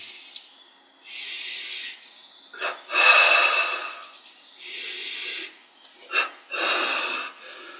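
Breath sounds during a dumbbell exercise, a series of airy exhalation bursts about a second long, fairly close, alone without talk.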